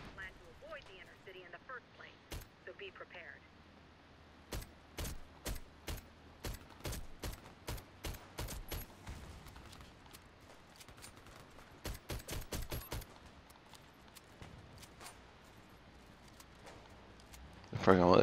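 Shotgun blasts in the video game Warface, a rapid series of sharp, loud reports in two bursts separated by a pause, with a voice talking faintly at the start.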